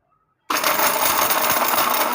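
An 850-watt mixer grinder on its first speed bursts on suddenly after a brief silence and roars loudly and steadily, grinding whole turmeric, with a harsh, rattling whir.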